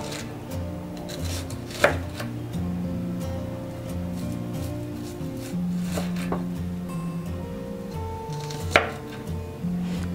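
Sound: slicing an onion with a knife

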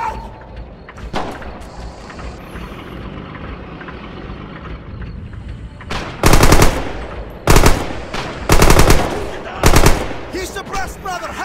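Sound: gunfire in the video game Red Orchestra 2

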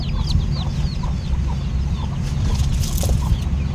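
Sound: chicken running past the camera

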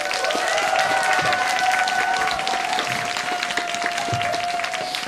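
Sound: audience applause

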